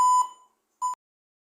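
A laptop's internal beeper sounds two tones: a longer beep that fades out, a brief pause, then a shorter, sharp beep, before the laptop shuts down. No voices.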